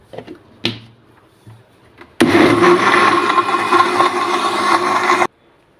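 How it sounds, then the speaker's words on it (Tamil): A kitchen blender grinds a banana shake with dates, starting abruptly after a few soft clicks and knocks and roaring loud and steady for about three seconds before cutting off sharply. "இது வந்து 1-2 தான் அரைக்கணும்."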